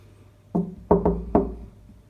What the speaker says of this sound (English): Just got to knock on the door